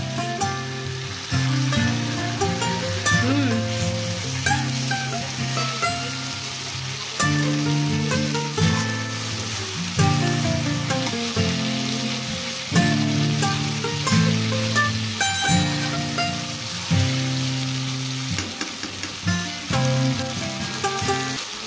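Fish sautés in oil for a Bengali fish curry, giving a continuous sizzling hiss throughout with a louder melodic music bed playing over it and no speech.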